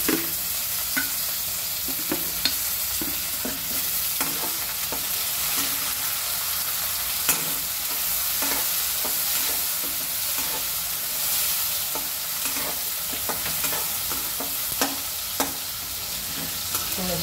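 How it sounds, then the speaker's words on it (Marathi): Chopped onion fries in a pan for spicy Maharashtrian misal, giving a steady, close sizzle with frequent scraping and clicking stirs throughout and no voices. "आपला कांदा भाजून झाला आहे"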